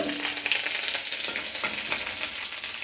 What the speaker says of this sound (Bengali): এইবার এই বড়ি ভাজার তেলেই আদা কুচিটা দিয়ে দেবো।